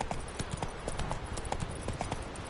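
A horse gallops in a video game, its hooves pounding out a fast, steady clip-clop rhythm close and loud throughout.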